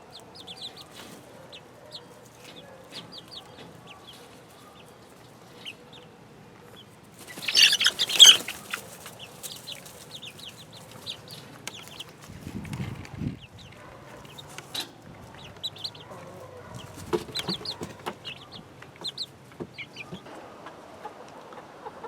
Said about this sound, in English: everything is going good on the 10 baby chick front in my little brooder